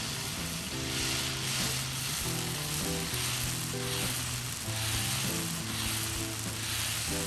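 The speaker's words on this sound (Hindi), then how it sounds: "डोसा के लिए आप कोई भी डोसा बैटर ले ले और अच्छे से उसको तवे पे फैला दें।" Dosa batter sizzles and fries on a hot tawa griddle, a dense continuous hiss heard close up and alone while music plays softly underneath.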